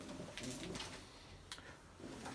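Pigeons cooing in a coop on a freezing day, soft repeated low coos in short bursts with faint background rustling.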